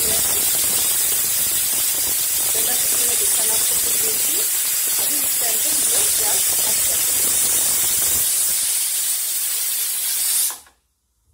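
A pressure cooker with pongal inside vents steam in a loud, continuous hiss with faint rattling, then cuts off abruptly near the end.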